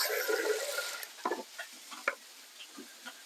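Water is poured over rice in a pot: a bright splashing pour at first, fading within a second into quieter scattered drips, clinks and small sloshes.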